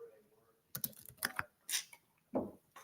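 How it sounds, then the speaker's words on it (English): Someone types on a computer keyboard nearby in short irregular bursts of quick key clicks, with brief pauses between the flurries. "I'm just typing it into my library thing here."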